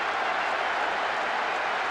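A stadium crowd cheers and applauds a goal in a World Cup football video game, a steady, dense wash of roaring noise that holds at an even level throughout, with no talking.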